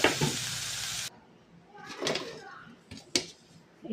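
Cluster beans stir-frying in a pan: a steady sizzle for the first second, then scattered scraping, clinking and stirring knocks at a quieter level.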